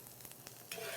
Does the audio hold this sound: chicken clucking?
no